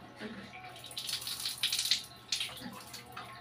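A water tap runs in a brief, faint, steady gush of flowing water with slight splashing.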